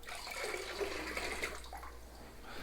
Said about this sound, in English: I'm using the basin to get the excess water out of